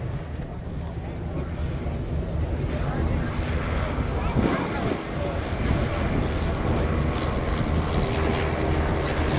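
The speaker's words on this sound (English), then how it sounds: "Let's get those engines started." Vintage propeller airplanes at an air museum anniversary event, engines cranking and running as a steady loud drone that builds under outdoor chatter, with a brief surge midway and people talking in the background.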